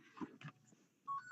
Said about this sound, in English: That would be my phone for some reason.